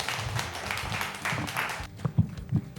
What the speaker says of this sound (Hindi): एक बार जोरदार तालियां फिर से